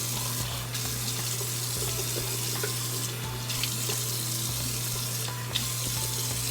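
Hot water runs steadily from a bathroom tap into a sink, a constant close hiss and splash with no pauses and no voices.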